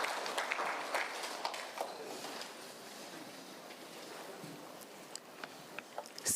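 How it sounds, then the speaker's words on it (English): Steady crowd applause from an audience at a Zimbabwe Prisons and Correctional Service conference on parole, a dense, even wash of many hands held at moderate, somewhat distant level throughout. "Let's give them a round of applause."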